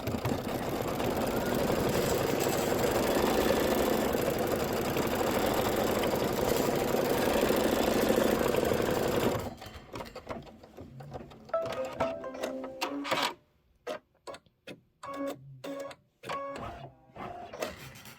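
An embroidery machine stitching down an appliqué piece for a Kimberbell storybook pocket pillow hums loudly and continuously for several seconds, then switches to choppy, intermittent bursts of mechanical chatter separated by short pauses.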